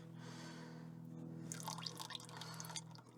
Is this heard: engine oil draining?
yes